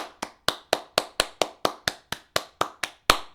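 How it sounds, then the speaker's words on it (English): A single person claps about thirteen times in a slow, even rhythm, each clap sharp, close and loud, with silence between them. "Can we just have an all-encompassing round of applause for the sound and music team?"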